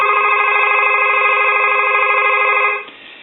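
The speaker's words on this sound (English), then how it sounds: "We're going to go ahead and ring the line now." A SofTel TeleQuest telephone rings loudly and close by, one continuous electronic warble of a bell lasting nearly three seconds before cutting off abruptly into quiet.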